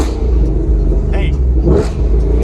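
A Ford Mustang engine revs briefly at close range, a loud rumbling surge heard beneath a person talking.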